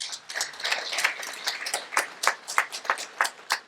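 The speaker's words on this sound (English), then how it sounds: "A round of applause for him and his great leadership." Applause for a community leader at a Nepali American Mt. Everest Day event: a smaller crowd claps, first in a loose scatter, then settling into steadier, distinct claps toward the end.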